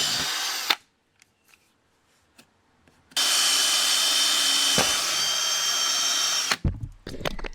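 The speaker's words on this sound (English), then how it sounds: "drilling into my car like this" A power drill bores into the body of an Audi A3/S3 for fitting side skirts, running in a loud continuous whine for about three seconds after a few faint knocks and brief quiet, then stopping with clunks.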